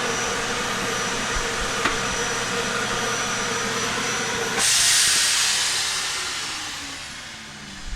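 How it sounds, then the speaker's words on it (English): A central vacuum cleaner with a dustpan inlet in a 2020 Forest River R-Pod 196 camper, a steady loud hiss that jumps brighter midway, then gradually winds down. "they now come with a central vacuum cleaner with this nice new little dustpan feature"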